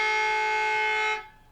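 Half-time siren sounding at an amateur Australian football match, very close to the commentary position: one loud, steady electric tone held for over a second, then cutting off sharply into quiet.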